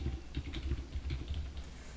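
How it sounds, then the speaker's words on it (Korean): Typing on a computer keyboard into a website search box: quick, steady key clicks close by, with no voices. "검색창에서 이렇게 한국무역협회라고 타이핑을 치고 한번 이 사이트에 들어가 보도록 하겠습니다"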